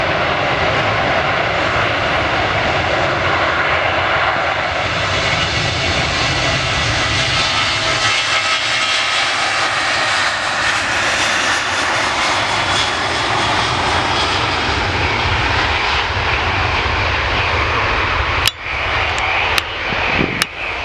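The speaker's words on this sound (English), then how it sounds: "Kuwait Airways A330" A Kuwait Airways Airbus A330 lands at Manchester Airport with a loud, sustained roar of jet engines that holds steady throughout. A few sharp clicks sound near the end.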